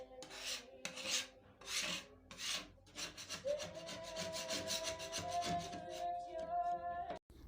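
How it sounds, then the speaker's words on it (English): Furniture is sanded by hand with rhythmic rasping strokes that start in separate bursts and then turn into quicker, steady rubbing, close and fairly quiet, with no talking. "Am I sanding the whole thing down?"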